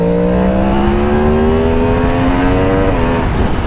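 A 2023 Yamaha MT-10 SP motorcycle engine roars loud and close, its pitch rising steadily under acceleration, then a quick dip where the electronic quickshifter changes gear on Sicilian mountain roads.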